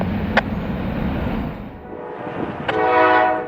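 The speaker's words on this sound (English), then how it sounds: "Right behind 582 running on approaches would be northbound empty grain train G304, coming out of Athens, Georgia" A northbound empty grain train passes with a steady rumbling roar, its horn sounding in two brief blasts, the second followed by louder rolling noise, heard from the trackside.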